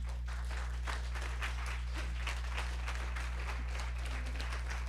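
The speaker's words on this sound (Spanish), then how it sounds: "Dale un aplauso al Señor." Steady applause from a church congregation, continuous clapping with no voices standing out over a low hum.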